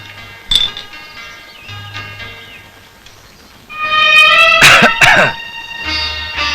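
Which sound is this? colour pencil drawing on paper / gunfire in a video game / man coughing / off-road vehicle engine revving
man coughing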